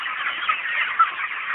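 Chicks at a poultry farm in Karnataka, about two and a half to four weeks old, cheep and cluck in a steady dense chorus with no pauses and no voices.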